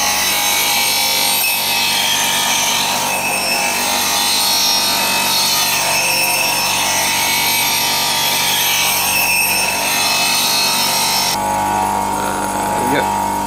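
Woodturning gouge held in a sharpening jig against a grinder for a Celtic grind, a continuous loud abrasive whine and scraping hiss that shifts slightly near the end.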